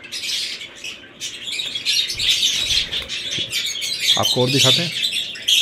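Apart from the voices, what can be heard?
pale fellow budgerigar pair chirping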